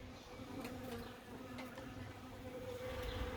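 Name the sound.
robbing honey bees buzzing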